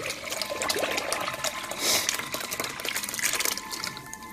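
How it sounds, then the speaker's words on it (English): Herbal bath water trickling and splashing through a strainer into a basin, a steady close pour with a brief louder gush midway, no voices. "You're going to pour that bath"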